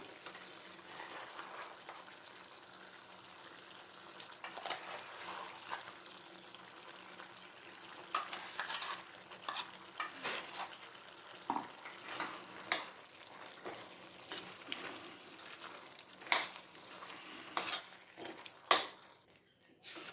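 Chicken cooking in a pan as boiled gongura is added: a soft sizzle with irregular stirring scrapes and wet plops, growing busier toward the end before a brief drop.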